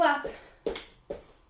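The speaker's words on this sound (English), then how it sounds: "Hands all the way up to the top. Give it a clap." Sharp single hand claps ring out during jumping jacks in a towel workout class, three distinct claps at an even rhythm after a trailing voice.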